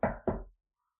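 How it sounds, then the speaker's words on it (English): Two quick, solid knocks land on an already open door, close and distinct, followed by silence. "a knock on your already open door caught your attention"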